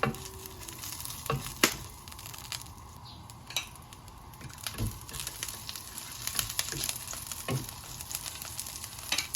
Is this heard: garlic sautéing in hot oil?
yes